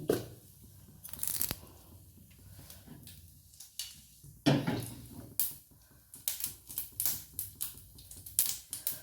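A quarter spoon of mustard seeds spits and splutters in hot coconut oil, with sharp irregular crackles and pops up close that grow quicker and denser toward the end, and no talking.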